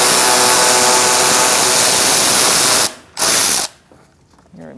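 A 7mm socket ratchet clicks rapidly and loudly as it backs out a license plate bracket bolt on a 2008-2014 Mercedes-Benz C300, a continuous close run that breaks briefly, resumes, then stops.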